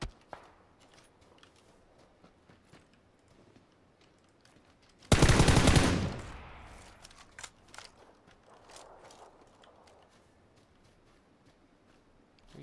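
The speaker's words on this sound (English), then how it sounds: "Where are you shooting from, homie?" A single loud burst of gunfire in the battle-royale game PUBG cuts in sharply, then fades into a lingering tail. Faint clicks and scattered game sounds sit around it, with no talk.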